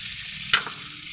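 Pork frying in a pan, a steady close sizzle with a single sharp clink or scrape of a utensil midway, brief and unaccompanied by speech.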